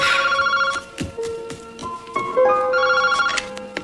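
A telephone rings with a bright electronic melodic ringtone, repeating tonal phrases for several seconds with little else around it.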